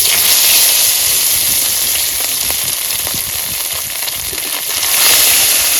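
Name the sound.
fish frying in oil in a wok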